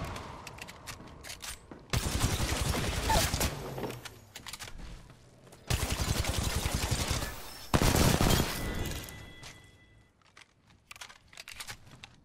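Bursts of automatic gunfire from an Apex Legends match, several sustained volleys of rapid shots with short gaps between, fairly close and loud, with faint clicking and no talk over them.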